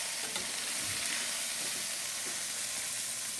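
Seasoned potatoes frying and browning on a stovetop, a steady, dense sizzle with soft stirring scrapes running the whole time, fairly close and unbroken, with no voices.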